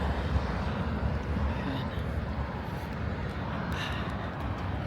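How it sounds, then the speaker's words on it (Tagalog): A train passes through a snowy Canadian setting with a broad, steady low rumble that carries from some distance and stays fairly even. Faint voices may sit under the noise. "Ayun, may train dumadaan."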